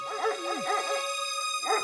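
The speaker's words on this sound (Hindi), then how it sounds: "ये डॉगी तो सोने ही नहीं देता, जब देखो भौंकता ही रहता है" A dog barks in a rapid, yipping string of sharp barks from an animated cartoon, steady and fairly close, with a short pause before one final bark and no talk over it.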